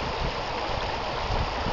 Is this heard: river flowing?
yes